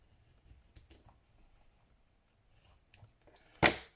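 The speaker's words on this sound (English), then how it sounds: "so I'm just going to trim that overhang" Scissors trimming the paper overhang on a vintage photo album page: faint rustles and small paper sounds, then a single sharp, loud snip near the end.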